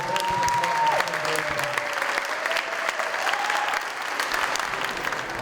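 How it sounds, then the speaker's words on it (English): A spelling bee audience applauds between rounds, a dense, sustained wash of clapping that stays loud and steady throughout, with a faint tone lingering under it at the start and no clear talk. "let's give everybody a round of applause"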